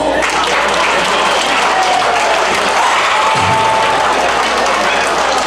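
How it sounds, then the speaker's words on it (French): Loud, dense applause from a gala audience in Montréal, many people clapping steadily in a continuous roar with some crowd noise and cheering mixed in, a voice briefly audible over it. "applaudissez-moi."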